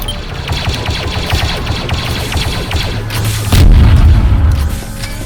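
Heavy booming explosions rumble through a video game battle on a station, a dense loud barrage of blasts and crashes that peaks in a deeper, heavier detonation partway through.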